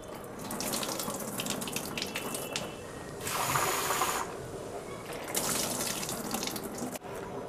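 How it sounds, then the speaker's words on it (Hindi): Tap water runs steadily into a sink while dal lentils are rinsed, a continuous splashing hiss that swells louder in two bursts, close and alone without talk. "इस दाल को हमें अच्छे से धोना है।"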